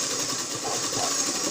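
A sewing machine stitching the side seam of a blouse, a steady close whirring hum throughout the short stretch.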